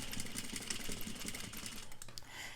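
A sewing machine runs steadily while backstitching the start of a seam on a curved flap, its needle mechanism whirring in a fast, even mechanical rhythm, close up and alone.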